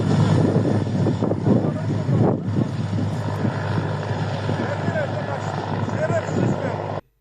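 Steady whirring drone of a helicopter overhead during a police drug raid in Samsun, Turkey, continuous and fairly loud, with a voice talking over it before cutting off abruptly.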